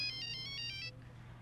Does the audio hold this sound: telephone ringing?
yes